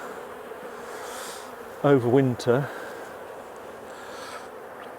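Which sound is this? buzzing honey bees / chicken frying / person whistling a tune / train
buzzing honey bees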